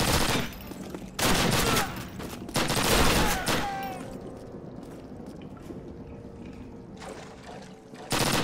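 Gunfire in Call of Duty World War II, dense bursts of rapid shots in loud clusters with quieter gaps between, a final burst at the end, and some talking in the background.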